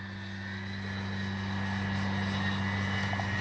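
A Dynam EMB-312 Tucano RC model airplane flies on its maiden flight with landing flaps deployed, its electric motor giving a steady high whine with strong tonal hum that holds level and swells slightly.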